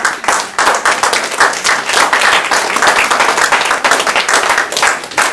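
Loud applause at a youth summit, with distinct individual claps standing out from a lively, uneven burst of audience clapping close by.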